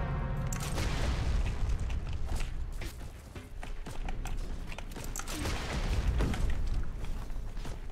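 A tank is blown apart by a bazooka strike in the World War II shooter Heroes & Generals: a dense, continuous run of heavy booms and rumbling blasts with crackling debris, loud and sustained throughout, with no voices.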